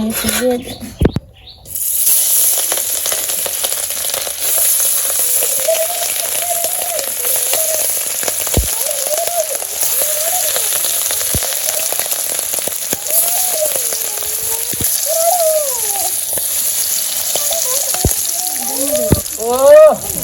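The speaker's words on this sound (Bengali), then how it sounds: "তেল গরম" Hilsa fish fries in hot oil in a village kitchen, giving a steady, loud, rain-like crackling hiss that runs throughout while people talk over it.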